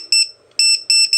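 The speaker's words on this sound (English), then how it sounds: "I'll set it high and it'll beep" Loud, piercing electronic beeps from a Hobbyking cell meter's low-voltage alarm on a solar battery sound in quick repeated bursts, close and insistent, with brief gaps between groups.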